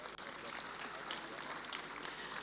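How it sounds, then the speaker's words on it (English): Audience applause for the Jarawa dancers from Plateau State at a public lecture event, a steady wash of clapping from a crowd, fairly faint and distant, sustained without pause. "let's give them another round of applause"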